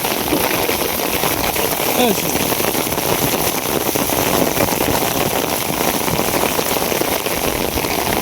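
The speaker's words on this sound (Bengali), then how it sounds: "দেখেন বৃষ্টির অবস্থাটা।" Heavy rain pours down in a loud, dense, unbroken roar of drops striking surfaces, steady for the whole stretch with no voices evident.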